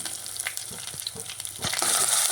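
Steady sizzling of onions with ginger-garlic paste frying in a hot pan for salna, with a few soft stirring scrapes and the hiss swelling louder toward the end.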